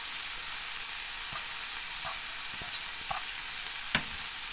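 Bean sprouts tossed into stir-fry noodles with broccoli in a hot pan, giving a steady hiss of sizzling with a few faint scrapes and clicks of stirring.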